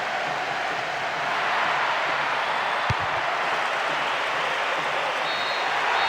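A stadium crowd in an Africa Cup of Nations 2002 football video game roars steadily at the final whistle, a broad, constant wash of noise with a brief thump midway and no commentary over it.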